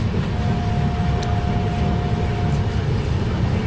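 Steady low rumble of a moving passenger train on a journey from Guwahati, heard from inside the carriage, continuous and fairly loud with a faint thin whine running through it and no talk.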